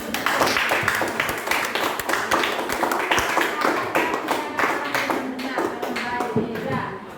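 A school class claps together, a crisp, fairly quick run of overlapping hand claps with shuffling and faint background chatter underneath, holding steady before tapering off.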